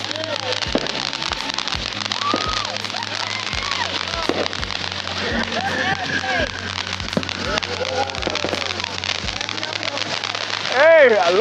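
Neighborhood 4th of July fireworks pop and crackle in dense, continuous bursts, with sharp bangs at irregular intervals throughout and people talking nearby.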